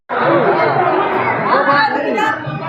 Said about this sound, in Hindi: अभी फ़िलहाल मंदिर में बहुत भीड़ है